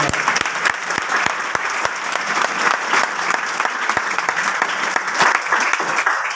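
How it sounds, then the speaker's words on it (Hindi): An audience at a seminar in Bathinda breaks into sustained applause, a dense steady patter of many hands with a few sharper claps standing out, continuing without a pause. "तालियां बजाओ इनके लिए"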